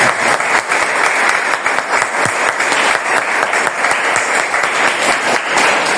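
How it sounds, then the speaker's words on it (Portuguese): A church congregation applauds, dense, loud continuous clapping that holds steadily for several seconds with no talking. "Dê uma salva de palmas para Jesus."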